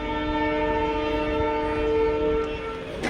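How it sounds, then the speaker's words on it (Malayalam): An intercity express train on the Talguppa–Mysuru route departs a station platform, a steady loud horn-like drone holding for about three seconds with rumbling underneath, close by. "ട്രെയിൻ ഇവിടെ നിന്ന് എടുത്തു."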